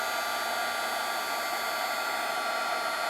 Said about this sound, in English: now I'm going to use the Marvy heat tool, and I'm going to heat the embossing powder